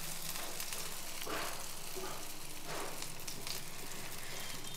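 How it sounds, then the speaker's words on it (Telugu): Dosa batter frying on a hot pan in olive oil, a steady broadband sizzle running throughout with a couple of brief louder bursts as more batter goes down. "కాలుతున్నాయి, త్వరగా కూడా అట్టు కాలిపోతుందండి"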